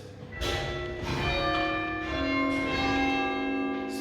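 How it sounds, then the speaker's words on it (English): Bath Abbey's clock bells struck by external hammers for the quarter hour: four resonant, ringing chimes in slow succession, each one overlapping the long sustain of the one before, loud and close with no talking. "it will play 4 chimes, and these chords there are attached to hammers on the outside of the bell to do this"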